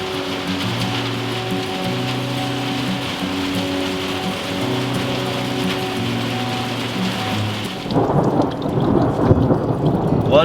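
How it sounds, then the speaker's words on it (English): Heavy thunderstorm downpour with hail, a steady roar of rain with a low rumble of thunder and musical tones, then a louder, harsher burst of pounding precipitation near the end. "There was hail and I mean, it was just coming down in buckets"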